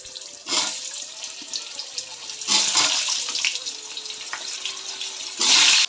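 Tap water runs while mutton is washed in a kitchen sink, coming in three splashing bursts, the longest in the middle and a loud one at the end, with quieter trickling between and no talk.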